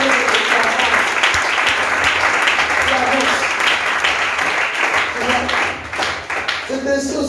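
A church congregation applauds the Lord with loud, sustained clapping that fills the whole stretch, with voices mixed in and a slight easing toward the end.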